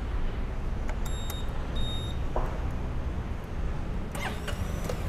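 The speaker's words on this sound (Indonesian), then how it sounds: "mesin ini belum punya ACG starter, jadi starternya masih kedengeran sebenarnya ya" A 2021 Honda Forza 250 scooter without an ACG starter cranks with an audible starter motor whine as the engine catches, a faint brief burst amid a steady low idle-like rumble, followed by a whirring rise near the end.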